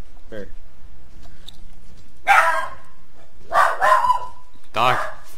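A dog barks several times in separate bursts, close and fairly loud, with a voice talking in the background.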